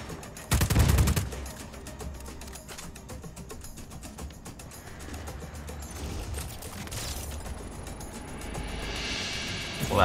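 Gunfire in Just Cause 4 on PS5 in a big city: a sharp loud burst opens, then dense rattling mechanical shots and clatter continue steadily under a busy game soundscape.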